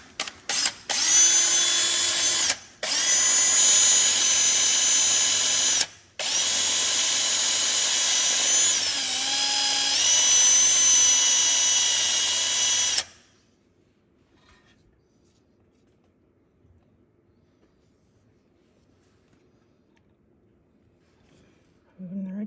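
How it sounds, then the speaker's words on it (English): Power drill boring into the rear main seal of a Porsche Boxster 986 with a 9/64 bit, running loud and close in long bursts with brief stops for about thirteen seconds, then going quiet. "Actually just drill straight into the seal and pull it out."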